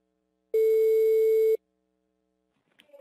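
A single long telephone tone sounds for about a second on a call being dialed, clean and steady, then silence follows and faint noises come in at the end.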